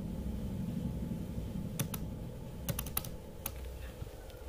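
Scattered crisp keystrokes on a computer keyboard as a network command is entered, a few isolated taps then a quick cluster and a final firm press, close and fairly quiet over a low background hum.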